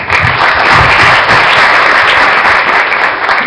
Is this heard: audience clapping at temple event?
yes